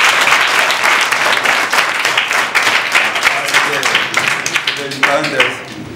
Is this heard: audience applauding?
yes